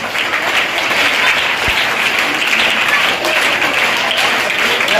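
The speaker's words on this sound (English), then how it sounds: "please give them a big round of applause" An audience applauds at a school Rubik's cube game held for a National Mathematics Day celebration, with loud, dense clapping running steadily throughout.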